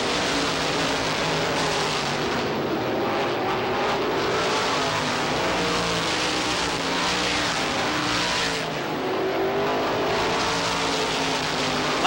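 Supermodified race cars roaring around Lee USA Speedway, a dense, loud, continuous engine howl that swells and fades as cars pass, with no commentary audible.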